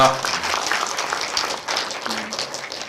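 Audience applause for two speakers at a film festival screening talk, steady and even throughout, with a brief voice underneath.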